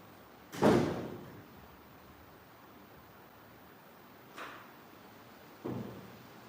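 A door shut during a talk, giving one loud thud early on, followed later by two softer knocks, against a quiet background hiss with no speech.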